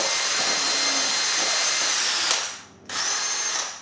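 An electric food mixer whirs steadily through gingerbread batter, a loud continuous motor drone that dips briefly to near silence before starting up again.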